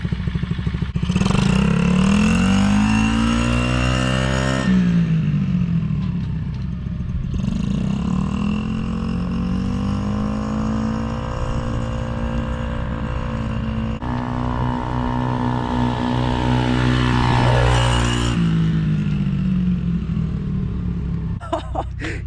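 A Mazdaspeed6 with a slight port injection fuel system problem revs hard and accelerates through its gears, the engine note climbing in long sweeps with brief drops between shifts, loud and close throughout with a voice talking over it.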